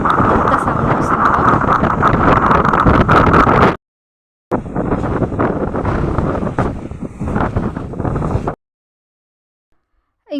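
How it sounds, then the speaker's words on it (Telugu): Strong wind buffets the microphone at Banasura Dam, a loud, roaring rush in two long gusts separated by brief silences. "అంత గాలి చూస్తున్నారు కదా ఎంత సౌండ్ వస్తుందో"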